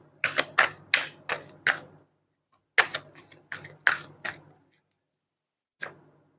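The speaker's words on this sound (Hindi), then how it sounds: "और दो कार्ड्स उठा लेते हैं।" Tarot cards are shuffled and drawn. Two quick bursts of crisp riffling flicks are separated by a short pause, then a single card snaps down near the end.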